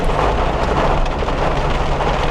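Heavy rain pours down steadily during a thunderstorm, a loud, dense, unbroken hiss of drops close by with no voices.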